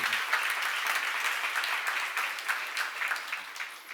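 Steady applause from a church seminar audience fills the whole span at an even, dense level, with no clear voice over it.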